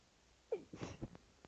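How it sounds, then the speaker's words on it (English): A single close, quiet sneeze, a short sharp inhaled catch followed by the burst and a soft trailing exhale. "I just sneezed on recording"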